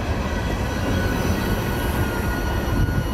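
A CSX freight train slowing down rumbles past close by, with a steady dense roll of wheels and rail noise and a faint high squeal, no voices.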